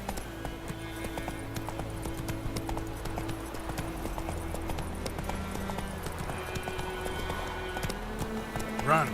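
Roach the horse gallops in The Witcher 3 video game, rapid clip-clopping hoofbeats running steadily under layered game music, with brief speech near the end.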